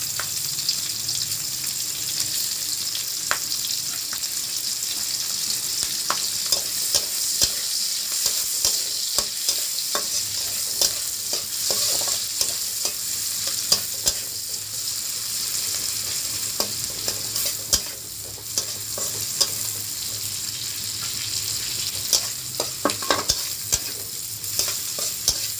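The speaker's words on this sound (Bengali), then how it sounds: "এবার দেবো পেঁয়াজ কুচি।" Chopped onions, added to hot oil with slit green chillies in a wok, sizzle steadily while a utensil stirs and scrapes in repeated clicks and knocks, with no talking.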